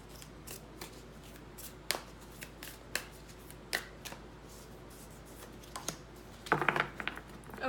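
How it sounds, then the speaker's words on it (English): A deck of tarot cards shuffled by hand, with a run of quick, crisp riffling clicks and snaps spaced irregularly across several seconds, ending in a denser flurry of card noise, with no talk. "I'm going to shuffle one more time."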